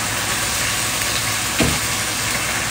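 Sardine chili sambal sizzling and hissing steadily in a frying pan after a splash of water is added, with a brief louder burst partway through.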